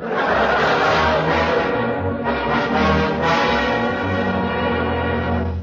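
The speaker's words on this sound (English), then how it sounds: "There it is, the big bell in the Robbins old mission there." The big bell of an old mission tolls loudly in a 1946 Red Skelton radio comedy broadcast, a steady, dense ringing that carries on without a break over a constant swell of sound.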